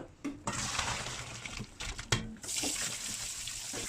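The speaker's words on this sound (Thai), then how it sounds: "ล้างผ่านน้ำไปแบบนี้ แล้วล้างด้วยน้ำเปล่าอีกสองน้ ำ" Boiled pork leg is rinsed in water at a sink, with close splashing and running water broken by a few soft knocks and clatters.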